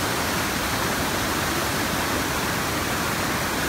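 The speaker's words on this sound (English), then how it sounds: "Get up to see this enormous waterfall." A loud, steady roar of falling water, dense and unbroken throughout, like standing close to a big waterfall near Leigh Lake in Grand Teton National Park.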